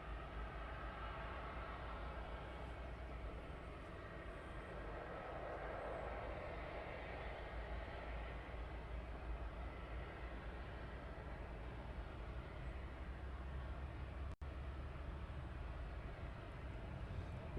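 Airliner in special livery taxiing at East Midlands Airport at night, a steady broad engine rumble and whine held at a distance, continuous and unchanging throughout.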